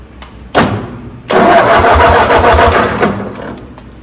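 A Ford 8N tractor engine cranks over on the starter with the distributor off: a short burst, then a sustained loud mechanical churning for about two seconds before it cuts off, close by with no talk.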